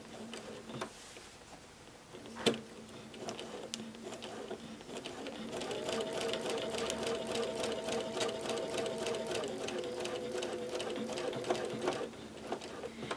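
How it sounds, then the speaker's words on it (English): A sewing machine runs steadily while free-motion quilting stitches along a seam, a close, continuous mechanical whir with a rapid ticking rhythm lasting several seconds after a few brief starts. "So I'm just gonna go ahead and hide my stitching along the seam"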